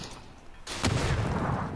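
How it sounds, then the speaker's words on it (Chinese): A grenade explodes in a PUBG match at the PGC 2022 esports tournament: one sudden, loud, booming burst after a quieter stretch, followed by a sustained rumbling wash of noise. "这发手雷旁边炸来的掀翻了 QM"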